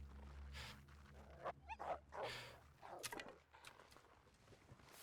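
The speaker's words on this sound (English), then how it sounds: "Was this the same dog or was it a second one?" A dog in the survival video game The Long Dark barks and whimpers in a short burst of yips and whines, fairly close, amid crunching footsteps and ambient game noise.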